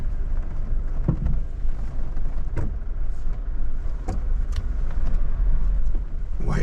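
A four-wheel-drive vehicle grinds up a steep hill track under throttle, its engine droning loudly and steadily up close, with intermittent thumps and knocks from the rough ground and suspension.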